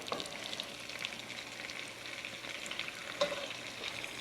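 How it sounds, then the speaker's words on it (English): Bacon frying and browning in a pot gives a soft, steady sizzle with faint stirring scrapes, fairly quiet and close, and one sharper clink partway through. "Okay, bacon's starting to brown."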